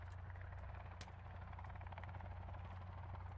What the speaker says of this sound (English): There's a helicopter taking off.